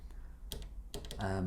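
Button presses on a Nord Stage 2 stage keyboard: a few sharp clicks in quick succession, near and fairly loud, followed by a sustained keyboard tone coming in at the end.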